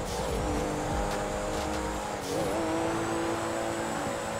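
A fast car in GTA 5 roleplay drones at high speed, a loud sustained engine tone that rises and dips in pitch with brief tire noise, alone.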